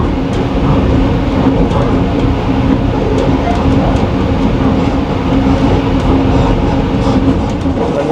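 A Green Line passenger train running through Ghotki station at about 70 km/h, a loud, continuous rumble and rattle of wheels and carriages heard from on board, with a faint clickety-clack and people speaking underneath.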